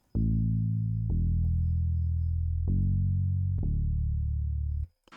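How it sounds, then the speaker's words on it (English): A soft rubber sub bass from the Hypersonic plugin plays four sustained, deep synth notes in succession, each starting with a slight attack and holding smoothly, loud and alone before cutting off. "Then you go to Hypersonic, then you go to sing basses, then it's a soft rubber bass"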